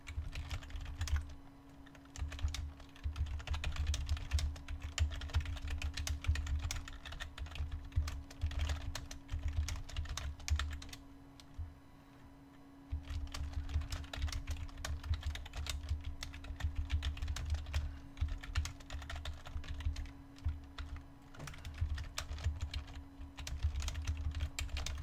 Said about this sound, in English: Sorry, I was typing and I'm not good at typing and talking.